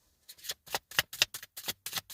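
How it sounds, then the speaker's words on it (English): A deck of tarot cards being shuffled by hand, a quick run of about eight crisp riffling bursts in steady rhythm, close and clear with no talking. "Shuffle this one more time before I pull top and bottom."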